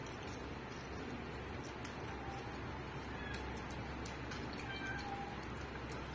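A white cat meows a few times, faint and somewhat distant, over a steady background hum with some chirpy high sounds.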